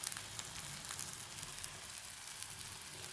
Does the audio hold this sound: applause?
no